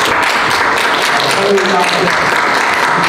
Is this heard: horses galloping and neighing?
no